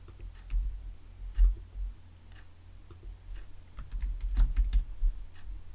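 Keys clack in irregular bursts on a desktop computer keyboard as a title is typed for a live video to a Facebook group. The keystrokes are close and crisp, grouped in quick clusters with short pauses and no talking.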